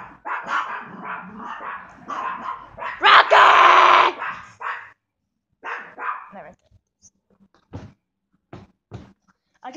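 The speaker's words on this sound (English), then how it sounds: "There are my two dogs right here." Two pet dogs bark indoors, a burst of loud, close, repeated barks and yelps, then scattered shorter barks trailing off into quiet.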